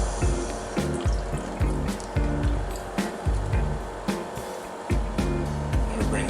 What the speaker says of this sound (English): We're going to add 1/3 cup of apple cider vinegar.